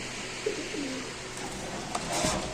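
Giribaz pigeons coo softly in a few short, low calls against a steady background hum, with a brief flutter or rustle near the end.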